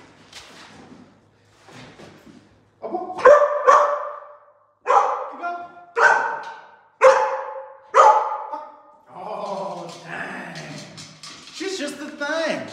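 A puppy barks in a series of sharp, loud yips spaced about a second apart, close to the microphone, followed by softer whining barks at the end.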